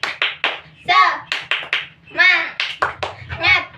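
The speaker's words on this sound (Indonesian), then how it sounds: "Ya, sekali lagi tepuk semangat." A classroom of students performs a rhythmic 'tepuk semangat' spirit clap, sharp close hand claps in a patterned sequence interleaved with group chanting voices.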